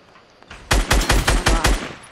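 A rapid burst of automatic gunfire in a video game, about six loud close shots in quick rhythm after a brief quieter lead-in, with no voices.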